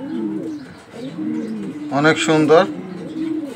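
A pair of Maxi racer pigeons, a female and a male, coo in low rolling bursts, with a louder throaty coo in the middle, while a person speaks briefly nearby.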